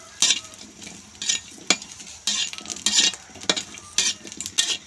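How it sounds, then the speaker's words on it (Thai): Makheua khuea (sour tomatoes) dry-roasting in a pan for a Thai fermented-fish jaew dip, with repeated loud scraping stir strokes in an uneven rhythm over a light sizzle, close and with no talk. "ใส่ลงไปคั่วรวมกันเลยค่ะ"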